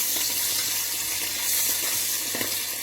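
Rabbit pieces browning on both sides in a hot pan produce a continuous, fairly loud frying hiss and sizzle with no pauses.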